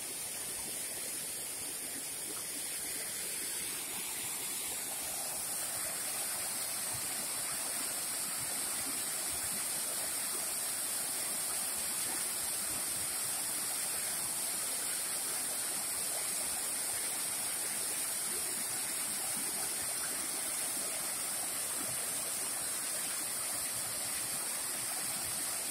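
A steady, full rush of falling water, constant and broadband, heard from close by with no voices, at Koromo no Taki waterfall in Iwate Prefecture, Japan.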